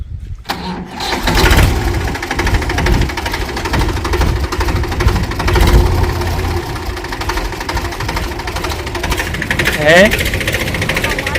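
A farm tractor's engine starting up and running in a village setting, a loud, steady knocking diesel clatter that continues throughout, with voices talking over it.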